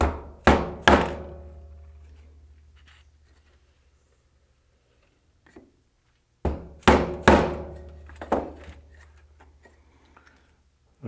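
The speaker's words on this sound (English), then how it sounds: "take my screwdriver, and I'll just tap it a few times" Screwdriver head tapped against wood to widen a hole, two clusters of sharp knocks, a few quick taps each, close and distinct against silence.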